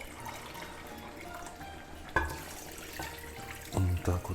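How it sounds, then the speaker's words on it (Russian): Water poured from a carafe while rinsing off tomato during cooking of a roe deer meat dish, a soft running trickle with a few brief splashes and clinks, fairly quiet and without voices. "Далее стоит добавить немного воды. Вот у меня в графине вода"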